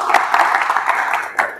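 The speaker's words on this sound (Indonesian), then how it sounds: "Oke, tepuk tangan buat kalian." Brief burst of clapping from students in a classroom during an automotive engineering lesson on diesel engine valve clearance adjustment, a short dense patter that swells again near the end before stopping.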